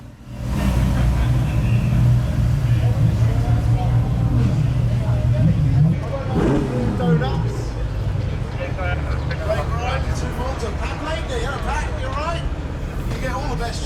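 Ferrari sports cars pulling away at the Goodwood Festival of Speed hill climb, a steady engine rumble under loud crowd noise and chatter, with one car revving up briefly partway through.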